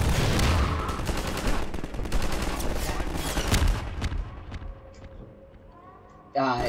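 Weapon fire in Half-Life 2 with the rocket launcher, a loud dense burst of blasts and crackling gunfire that fades after a few seconds into quieter game sounds, ending with a sharp new impact.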